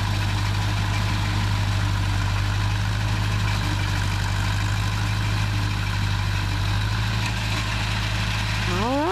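A lawn mower engine idles steadily up close, a constant low drone with a hum throughout, and a brief rising rev near the end.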